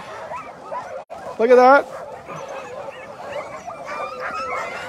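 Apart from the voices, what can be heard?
sled dogs barking at the start of a dog sled race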